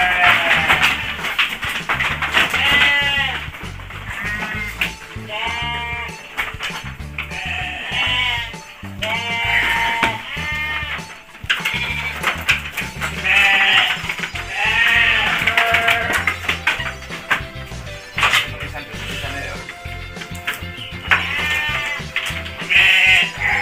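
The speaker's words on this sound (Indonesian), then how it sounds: "domba Texel." A flock of Texel sheep, part of a delivery of 28 animals unloaded in crates from a farm truck, bleats constantly and loudly, many overlapping calls close by, with knocks and rattles underneath.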